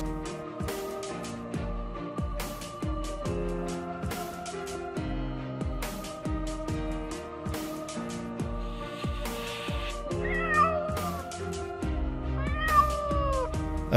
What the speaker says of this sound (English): A kitten hopelessly trapped in a deep tube. The animal screams from hunger and pain until it is exhausted.